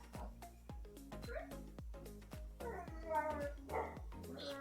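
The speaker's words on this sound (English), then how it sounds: "Specifically, the one that is not in the room is barking." Dogs bark excitedly after a delivery arrives at the house, with one dog out of the room sending sharp, rhythmic barks while another nearby yips and whines. The barking repeats steadily and rises in a frantic stretch near the end.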